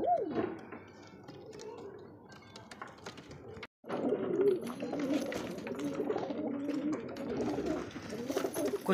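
Pigeons coo softly nearby, low throaty murmurs overlapping with light scratching and shuffling sounds, with a brief dropout midway.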